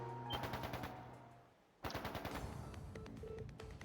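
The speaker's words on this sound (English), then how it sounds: "Gunfire!" Rapid automatic gunfire in the video game Trails of Cold Steel III, fast bursts of shots, then a brief lull before a second, denser burst with sustained rattling and some higher electronic tones.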